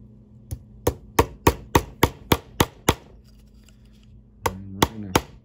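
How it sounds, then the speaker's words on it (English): A hammer taps a tiny brad nail into a post for a 1/32 scale slot car guardrail: a close run of eight sharp, evenly spaced knocks, a short pause, then three more taps. "and take our hammer"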